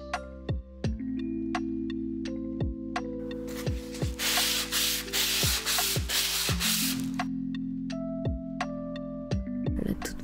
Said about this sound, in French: Poncer beaucoup de lattes de bois, 22 en tout.